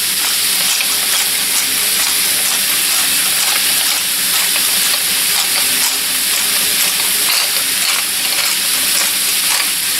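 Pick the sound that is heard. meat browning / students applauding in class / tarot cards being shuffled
meat browning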